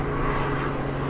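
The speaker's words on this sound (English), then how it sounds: "the plane that's going by is kind of loud" A propeller airplane passes overhead at an adventure-bike trail stop, a steady loud drone that fills the whole clip without a break.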